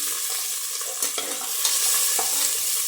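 Green chilies sizzling in hot oil alongside cashews already fried golden, a steady close hiss with a few stirring scrapes and clinks, no voices.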